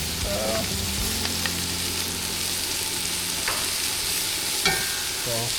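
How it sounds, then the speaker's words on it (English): Minced garlic and mushrooms with Dijon mustard sizzling in a pan for a pork chop gravy, a constant close crackle with a few soft utensil scrapes and taps as the mix is stirred, no speech. "So stir all that up until we get the nice aroma of the garlic and mushrooms together."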